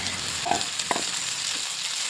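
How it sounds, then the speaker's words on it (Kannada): Onion, capsicum and tomato fry in oil in a kadai for a sprouted field-bean palya, giving a steady close sizzle with a couple of soft stirring scrapes over about two seconds. "ಅದು ಫ್ರೈ ಆದಮೇಲೆ ಕ್ಯಾಪ್ಸಿಕಮ್ಮು ಕೂಡ ಹಾಕ್ಕೊಂಡು ಫ್ರೈ ಮಾಡ್ಕೊತೀನಿ ಚೆನ್ನಾಗಿ."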